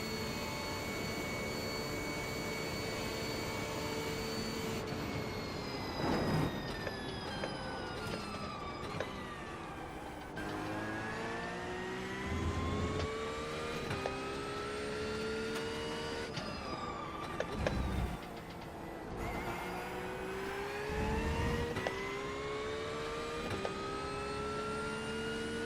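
Porsche race car engine in the iRacing sim during a 24-hour Le Mans endurance race, a loud continuous drone with rising and falling pitch through repeated upshifts and downshifts, occasional sharp blips as gears change.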